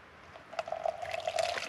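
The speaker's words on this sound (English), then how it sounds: "pour that on into the cup" Brewed East Coast Roast coffee, made with grounds thrown straight into a camp pot, poured into a cup through a filter: a short, close, thin liquid trickle that starts after a brief quiet and runs steadily to the end, with no talk.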